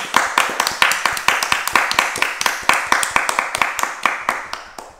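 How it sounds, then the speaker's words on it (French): Hand claps in a classroom, about twenty quick sharp claps at an uneven beat over five seconds, close and loud, with no talking heard. "Let's clap our hands."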